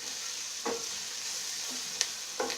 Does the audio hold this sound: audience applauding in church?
no